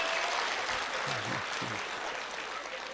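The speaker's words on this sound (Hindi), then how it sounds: "हाँ ताली बजाओ" Steady applause from an audience clapping hands, a broad continuous wash of claps lasting the whole stretch, with faint voices underneath.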